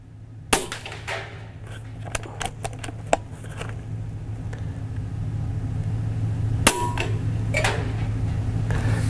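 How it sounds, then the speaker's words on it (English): An Umarex Origin .22 caliber PCP air rifle fires a single sharp crack near the start, followed by scattered small clicks and a second snap later over a steady low background hum. "I know when I fire this one, it's probably gonna hit really low on this last shot"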